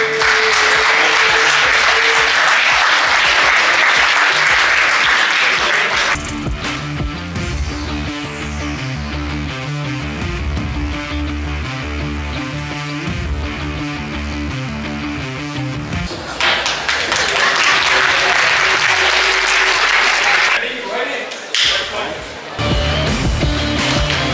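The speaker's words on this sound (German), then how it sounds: "Ein großen Applaus für Samira Kindermann." Applause greets German MMA champion Samira Kindermann, a loud burst of clapping at the start that gives way to music with a steady beat and low tones, then a second surge of clapping and noise near the end.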